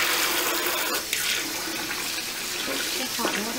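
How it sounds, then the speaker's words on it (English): Hot water pours steadily from a kitchen tap into a plugged sink, a continuous broadband hiss and splash with a brief shift in tone partway through, close and fairly loud. "Get the water extra hot."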